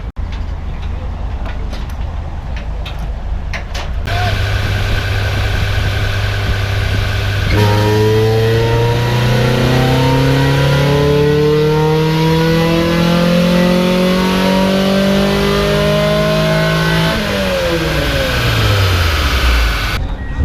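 Mazda Miata on a dyno at a car show, the engine climbing through a long rising rev with gear-like steps and harmonic sweeps, then dropping sharply back down, loud and close.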